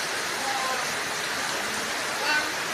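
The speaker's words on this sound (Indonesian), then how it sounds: "Hujan deras." Heavy rain pours in a steady, dense hiss that holds evenly throughout, with no break or distinct drops standing out.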